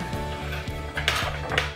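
A dishwasher running downstairs clatters loudly, with dishes knocking in a steady repeating rhythm and sharper rattles on top, heard from a short distance with no talking.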